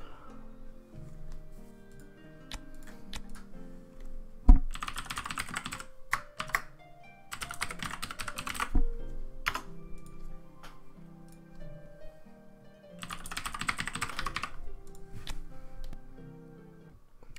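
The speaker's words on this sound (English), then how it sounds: "sorry about that typing. I forgot to mute the mic." A computer keyboard is typed on in several clattering bursts of rapid keystrokes, picked up close by a desk microphone, with quieter ticking between the bursts.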